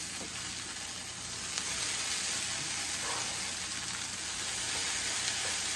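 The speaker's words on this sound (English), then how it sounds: "the potatoes now and the sausage and the onions and garlic and all of that, it's been cooking now for about 2 to 3 minutes" Sausage, potatoes, onions and garlic frying in a skillet for a breakfast hash, a loud steady broadband sizzle and hiss close up throughout, with faint stirring noises and no talking.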